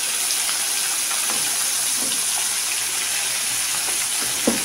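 Mullet fish frying in a pan, a steady broadband sizzle of hot oil that holds evenly throughout, with a few faint clinks near the end and no talking.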